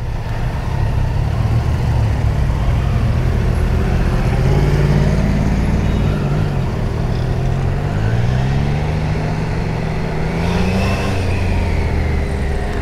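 Heavy city traffic surrounds a rider on a Triumph Trident 660 Triple Tribute Edition three-cylinder motorcycle, with a constant loud engine and road drone and other vehicles passing nearby; no talking.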